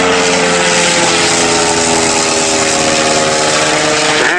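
A Sopwith Pup biplane takes off at a June flying day at Old Warden, its rotary engine droning steady and loud close by, with a dense rough buzz and no talk.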